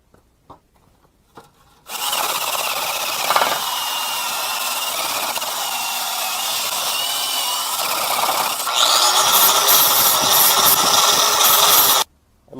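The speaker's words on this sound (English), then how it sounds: "I can just kind of take my drill and just clean it up" A loud, steady drill grinding against a metal Magnaflow glass pack muffler part for a Victory XC runs continuously for about ten seconds, rising in pitch near the end before stopping abruptly.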